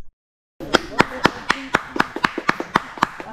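Sharp hand claps ring out one after another, roughly a dozen in a loose rhythm, fairly close, over a low murmur and faint background voices, at a hot spring pool near Krabi, Thailand.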